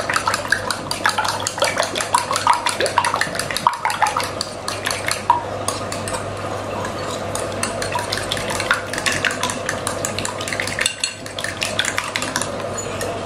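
Eggs being whisked by hand in a bowl for a bread and coconut milk snack, a steady rapid clatter of the whisk against the bowl running throughout, close and continuous.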